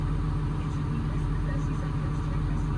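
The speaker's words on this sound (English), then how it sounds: "it seems to have a high idle" A car engine with a poor-performance, no-power fault runs steadily at a high idle, a loud continuous hum with an even pulsing rhythm and a voice speaking faintly over it.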